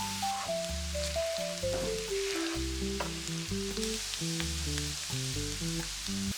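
Tempeh fries in a pan while being stirred now and then, a soft sizzle running beneath louder, steady background music with shifting notes.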